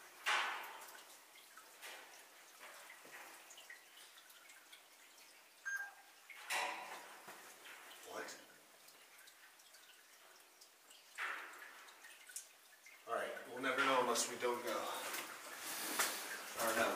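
Water drips inside a cold underground mine, scattered faint splashes landing irregularly in a quiet, echoing space while people talk softly nearby.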